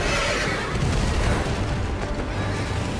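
Demon unicorn horse from the video game Bayonetta 2 neighing amid a dense, loud wash of game noise with booming and bursting effects throughout.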